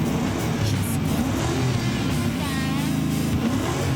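A Toyota Trueno fitted with a V8 engine runs and revs, a loud, rough, continuous engine roar with a slightly uneven note from an engine not firing on all cylinders, heard up close.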